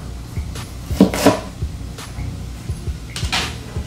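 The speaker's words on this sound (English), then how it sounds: "For onion, we're just going to cut these into a nice 1/2 moon, right?" A knife slices a white onion into half moons on a cutting board, with a few irregular close knocks and thuds, two of them louder, between softer scrapes in a quiet kitchen.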